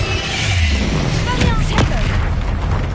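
Spell blasts from Bombarda and Confringo in the game Hogwarts Legacy: dense, loud booming explosions and crackling impacts layered over a continuous rumbling game soundscape with spoken incantations.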